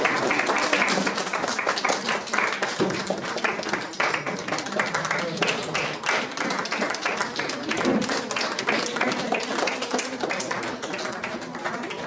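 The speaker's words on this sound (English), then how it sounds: "give her a big applause." An audience at a school drawing competition event claps for the principal, giving sustained, dense applause with many hands at close to moderate distance, steady in loudness for about twelve seconds, with some voices mixed in.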